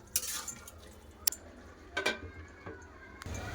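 A utensil stirring tomato curry in a pan, heard as a few scattered scrapes and clinks against the metal, fairly quiet and close, with stretches of low background noise between strokes.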